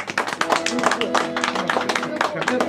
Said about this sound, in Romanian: aplauze toată lumea pentru generică